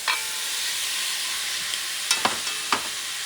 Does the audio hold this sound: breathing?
no